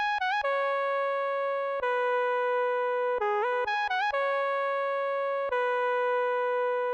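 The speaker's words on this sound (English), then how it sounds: "we have the second lead that sounds like this" A bright synth lead in a 90s-style R&B beat plays a melodic line of held notes with quick pitch slides between them, steady and clear with no voices.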